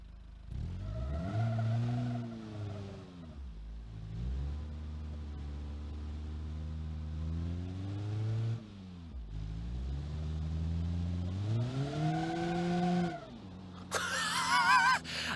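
A wheelie truck's engine in BeamNG.drive revs up and settles in repeated swells, a steady droning tone rising in pitch several times, loud and continuous, ending in a brief burst of clatter.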